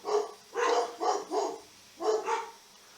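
Dogs barking outside in a street, several short bark bursts in uneven groups, moderately distant and heard alone.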